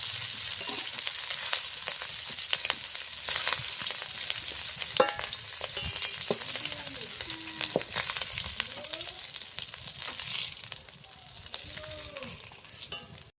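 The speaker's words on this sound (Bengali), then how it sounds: "এই দেখো চিংড়িগুলো এইভাবে হালকা করে ভেজে নিতে হবে" Small shrimp fry in hot oil with a steady, fairly quiet sizzle, broken by scraping stirs and occasional spatula knocks against the pan.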